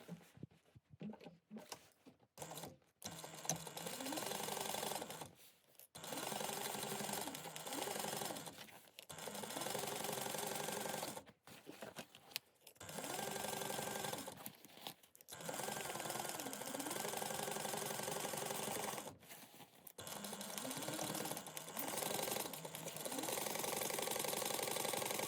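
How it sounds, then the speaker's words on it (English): A sewing machine stitches the side seam of a convertible sling backpack in several long runs of steady mechanical whirring, broken by short pauses, with no voices. "we're going to sew down each side at a 3/8 inch seam allowance."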